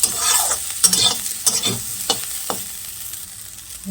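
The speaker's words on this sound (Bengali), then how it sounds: "এই যে ভাজা আলুগুলি দিয়ে মিশিয়ে নেব মিশিয়ে দু তিন মিনিট নাড়াচাড়া দিয়ে নামিয়ে নেব" Fried potatoes are stirred with chili powder in a pan: a series of distinct scraping strokes of a spoon against the pan over a light sizzle, close up and without speech.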